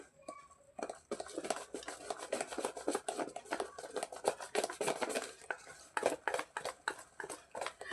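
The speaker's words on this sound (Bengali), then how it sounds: "ভালো করে ফেটিয়ে নিতে হবে" Thick batter of ripe banana with fennel seeds is beaten in a bowl for fritters, a busy run of rapid scraping, tapping strokes close by that stays steady throughout, with no voice.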